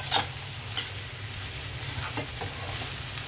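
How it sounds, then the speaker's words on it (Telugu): Long beans and potatoes fry in a pan under a constant sizzle while a utensil stirs and taps against the metal a few times, close up with no voices. "ఇప్పుడు ఇవి అన్నీ ఇలా కలిపేస్తాం"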